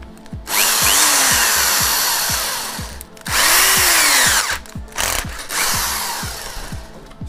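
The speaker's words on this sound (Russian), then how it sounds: "и ей буду сверлить отверстие в отражателе." A 4 mm diamond core bit in a power drill bores a hole through a ceramic headlight reflector for a Renault Trafic 2016 BI-LED lens retrofit, giving two loud sustained grinding runs with a short pause between, then a shorter final burst.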